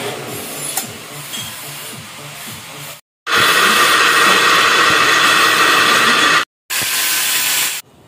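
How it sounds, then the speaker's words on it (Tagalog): A grinder working on a welded kicker part of a Rusi 150 motorcycle engine: two loud, steady, high-pitched grinding runs separated by brief silences, following quieter workshop clatter and noise. "gumamit tayo ng grinder dyan"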